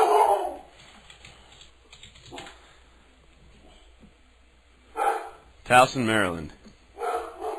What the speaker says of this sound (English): Whoa, the dog's barking.